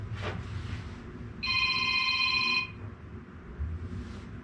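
A telephone rings once in a steady electronic trill lasting about a second, clear over low background rumble, then quiet returns.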